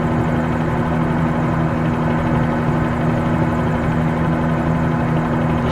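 A helicopter in Microsoft Flight Simulator 2020 flying toward Key West, a loud, steady rotor and engine drone with a low tonal hum, continuous and unchanging with no talk.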